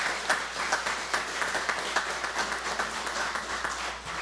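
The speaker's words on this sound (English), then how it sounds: "A round of applause for all of the family members who have had to endure as their family member perform public service" A crowd at a plaque ceremony in St. Croix gives a round of applause, a soft, steady spread of clapping heard from some distance, fairly quiet throughout.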